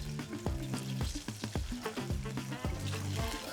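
Ackee and saltfish frying in preheated oil at about 350 degrees gives a steady close sizzle, with repeated bursts of crackling and the clatter of stirring throughout.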